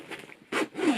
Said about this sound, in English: So I will just zip this one up.